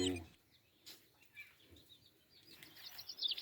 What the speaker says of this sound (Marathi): पाखरू पण मगापासून सारखं ओरडते